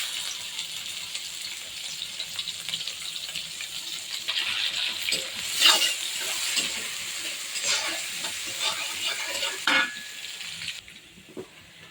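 Oil sizzling and crackling in a wok as onions are tossed in for a taro-stem dish, a steady frying hiss with stirring clatter and a brief clink near the end before it quiets.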